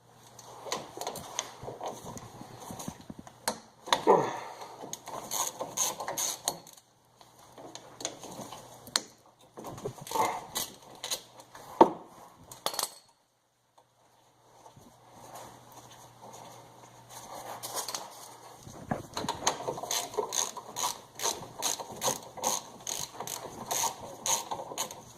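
A hand ratchet loosens brake caliper bolts in quick bursts of rapid clicking, several runs separated by short pauses, close and fairly quiet.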